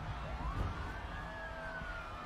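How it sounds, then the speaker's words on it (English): Police sirens wail in the video game The Fractured But Whole, a faint, distant rising-and-falling tone lasting a couple of seconds over low background rumble. "Like police sirens and shit."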